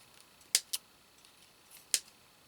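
Scissors snip pieces off, three sharp, crisp cuts, two quickly in a row then one more after a pause, close and isolated against quiet.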